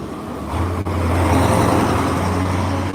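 A Kamaz military truck's big engine rumbles in heavily from about half a second in, a deep steady drone with broad road noise that stays loud and close to the end.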